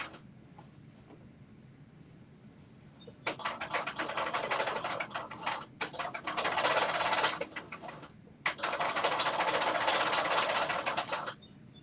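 A home sewing machine that needs servicing stitches in three bursts of rapid rattling, each several seconds long with short pauses between them. It sounds close and clear, with no talking.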